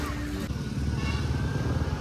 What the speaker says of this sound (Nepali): 11 बजे बाइक बनेर भाँड्नु थाल्यौँ